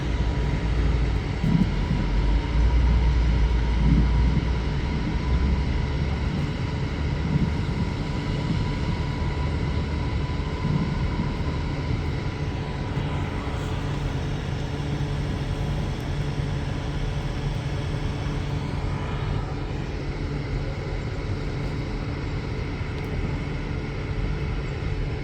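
A Class 390 train departs Stockport station, its steady engine and traction drone filling the platform and holding constant throughout, with a faint shift partway through as it pulls away.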